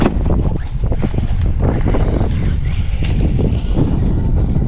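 Gusty outdoor wind buffets the microphone with loud, low rumbling and irregular bursts throughout, while a small brushed-motor RC car is being tested nearby.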